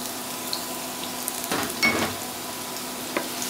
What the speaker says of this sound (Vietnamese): Rồi mình phi cho thơm cái đậu hành này nè.